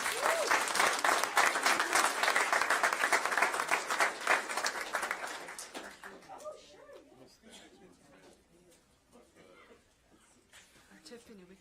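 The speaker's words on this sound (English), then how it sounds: "everyone just give them a round of applause." Audience applause at a school district board meeting, loud and dense for about six seconds, then thinning into scattered claps under murmured talk and nearby voices.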